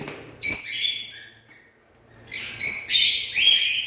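Cockatiels in an aviary give loud, shrill chirping calls, one sharp call early on, then a run of repeated screeching calls after a short pause, fairly close and with no talk.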